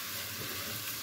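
Onions being sautéed in a pan for a Lebanese green bean and meat stew, giving a steady soft sizzle and frying hiss with light stirring, alone and without talk.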